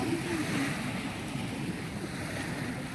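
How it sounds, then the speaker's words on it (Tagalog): Rough sea waves wash and churn at a beach in a steady broad rush of surf, with wind buffeting the microphone and no clear talking. "Parang medyo maalon na."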